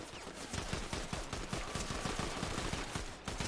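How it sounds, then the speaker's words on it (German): Rapid gunfire from the Fortnite video game. Dense bursts of shots crackle continuously and loudly for a few seconds, with no talk over them. "Ich habe einen Schuss gehört."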